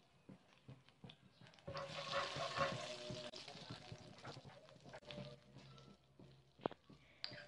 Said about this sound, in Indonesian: Masukkan mentega atau margarin 1 sendok makan.